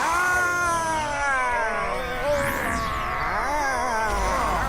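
A cat meows loudly and continuously in a long, wavering, drawn-out yowl close by, its pitch sliding up and down with no speech over it.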